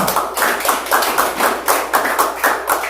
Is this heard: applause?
yes